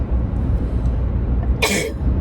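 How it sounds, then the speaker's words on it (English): One sharp sneeze from a person, bursting out close to the microphone partway through over a steady low rumble, with no talking. "oh, I'm gonna sneeze"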